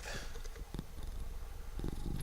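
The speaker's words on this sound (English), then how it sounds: "you can hear him in here purring away" A cat purrs close by in soft, rhythmic pulses with a few faint clicks, steady throughout the short stretch.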